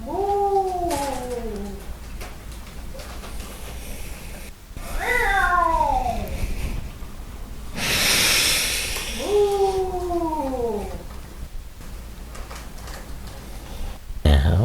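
A person imitates a cat during a yoga cat stretch, giving three drawn-out meows spaced a few seconds apart, with a soft breathy rush of air between them.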